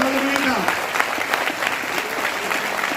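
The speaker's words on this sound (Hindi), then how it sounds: "एक बार ताली बजाइए," Audience applause at an IMC RAS program event in Kolkata: steady, dense clapping from a crowd that fills the whole stretch, with a brief voice at the very start.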